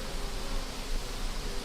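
Honey bees hum steadily around their hives in a new apiary, a dense, even buzzing with no voices over it.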